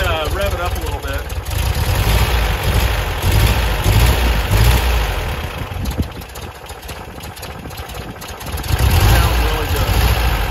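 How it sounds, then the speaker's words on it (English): A 1972 VW Westfalia bus engine, running cold, revs and idles loudly and steadily up close, rising again toward the end, with no talk over it. "Go ahead and rev it up a little bit."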